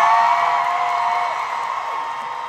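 A large indoor concert crowd at a show in Brighton screams and cheers in a steady, loud roar that slowly fades slightly over a few seconds.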